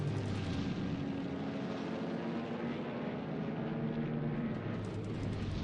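Video-game P-38 fighter aircraft fight in Pacific combat, with a steady, dense engine drone and faint rumbling tones filling the scene at moderate volume, no talking.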